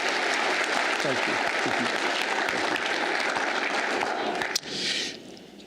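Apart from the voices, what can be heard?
applause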